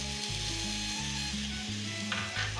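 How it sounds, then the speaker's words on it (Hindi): Soy sauce poured over sooji balls in a hot pan produces a hissing sizzle, set against a steady low mechanical hum with shifting tones, and a brief louder burst of frying near the end. "तो हम जो सोया सॉस हमने लिया है उसको ऊपर से इसे डालेंगे"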